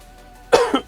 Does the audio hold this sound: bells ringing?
no